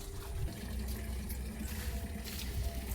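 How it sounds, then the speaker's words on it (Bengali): A small child pours water onto home garden vegetable plants, a steady close trickle and splash of liquid running continuously with no voices. "এদিকে ছোটো বাবু এখন গাছে জল দিবে"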